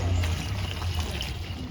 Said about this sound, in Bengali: এখন অল্প পানি দিয়ে দিব